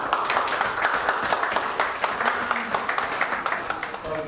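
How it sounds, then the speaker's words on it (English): Scattered applause from a group at a football club, thanking a kitchen staff member named Ben, a continuous patter of claps with some indistinct voices mixed in. "A little bit of a round of applause for Ben"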